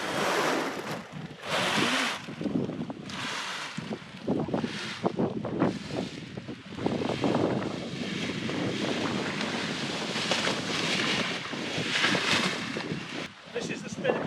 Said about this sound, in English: The wind is quite fierce today.